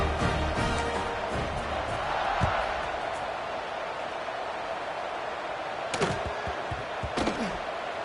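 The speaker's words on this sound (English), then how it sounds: "this crowd is buzzing after that last score" A stadium crowd at a college football game, NC State Wolfpack at Miami Hurricanes, keeps up a steady broad roar after a score, with a few sharp thuds near the end. A commentator talks over it.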